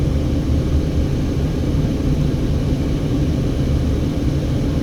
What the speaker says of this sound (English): We're driving over the Hoover Dam.